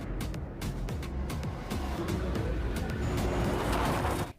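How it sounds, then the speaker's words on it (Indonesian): A truck is driven recklessly in a film, giving a dense, loud, continuous rumble of engine and road noise with rattling impacts scattered throughout, close and without speech. "Abang Jago sendiri dengan santainya mempermainkan mereka dan melajukan kendaraannya dengan ugal-ugalan."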